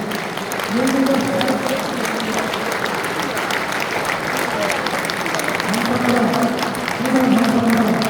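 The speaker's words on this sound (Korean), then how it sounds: "우리 회원들 모두 일어서 우리 회장님께 큰 박수로 환영해 주시기 바랍니다" A standing audience at a national Presbyterian men's convention applauds to welcome former presidents, steady crowd clapping throughout, with a voice speaking over it in parts.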